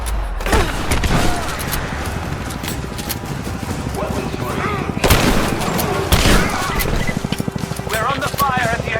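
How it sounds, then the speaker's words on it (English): Gunfire at the edge of a village in Rise of the Tomb Raider: dense volleys and rapid bursts crackle continuously with booms, while people shout and speak over the chaotic firefight. "We're under fire at the edge of the village."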